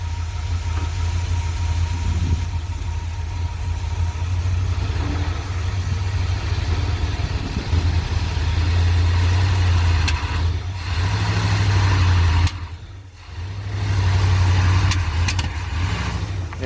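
A 1978 Plymouth Trail Duster engine idles with a steady low rumble, close by; a brief dip near the end marks the shift into drive before the engine note returns.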